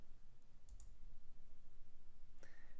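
Two faint, sharp computer mouse clicks about two seconds apart over a quiet, steady electrical hum.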